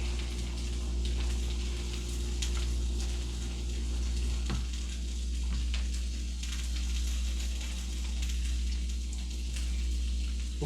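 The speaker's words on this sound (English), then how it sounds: "we're going to get this sausage in this pan and get it going" Andouille sausage fries in a pan for a Cajun sausage-and-potato dish, giving a steady, even sizzle with a constant low hum beneath and a few faint clinks, no talking.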